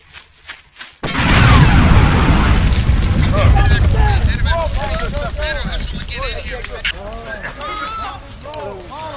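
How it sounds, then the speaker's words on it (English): A booby trap suddenly explodes with a loud boom after a second of quiet, followed by a long rumbling roar as voices shout and talk over the fading blast. "The booby trap blasts Brown and two of his men with shrapnel"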